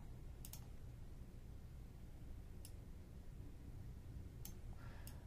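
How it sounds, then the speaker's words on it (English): A computer mouse clicks while someone edits a photo in software, with a handful of sharp, faint, isolated clicks spaced a second or two apart over a quiet noisy room. "I'm just clicking, changing my circle size."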